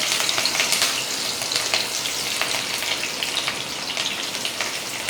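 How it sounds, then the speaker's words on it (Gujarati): Garlic cloves and chillies sizzle in hot oil in a home kitchen, a loud, dense crackle of popping and spitting that runs steadily throughout with no voices. "તમે જોઈ શકો છો કે તેલ ગરમ થઈ ગયું છે. એમાં લસણની પહેલા 2 થી 3 કળી મૂકવાની છે."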